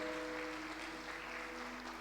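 A church congregation applauds in a steady, sustained clapping wash that fills the whole moment, with a low organ or keyboard chord held underneath.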